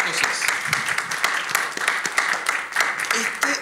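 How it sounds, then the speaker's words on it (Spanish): Audience applause fills the room at a museum talk on film collecting, a dense, steady clatter of many hands clapping throughout, with bursts and a few cheers rising over the crowd. "Un gran aplauso."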